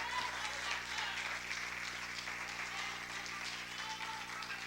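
Church congregation applauding during a sermon, a sustained wash of clapping heard at a distance and fairly faint over a low steady hum, with voices mixed in.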